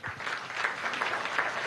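Steady applause from an audience at a national journalism award ceremony, dense and continuous clapping that fills the room at moderate loudness with no voices over it.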